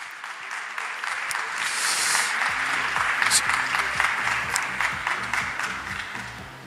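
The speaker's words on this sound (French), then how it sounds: "sous vos applaudissements" Steady audience applause fills a hall at the Hôtel de Ville de Paris during Biomim'expo, welcoming Valérie Masson-Delmotte, a dense, even wash of clapping that swells and holds for several seconds with a low hum underneath.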